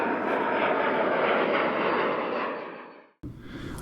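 A loud, steady roar from a Hawker jet departing Centennial Airport on a sunny morning fills the air, swelling and then fading before a sudden cut to quieter background noise, with no voices.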